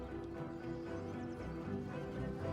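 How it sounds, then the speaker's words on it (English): Cattle hooves clop steadily on the ground as the animals walk calmly in single file through a curved handling chute, a continuous rhythmic shuffle with no voices. "The cattle just keep calmly walking, thinking they're going in circles, following their buddies."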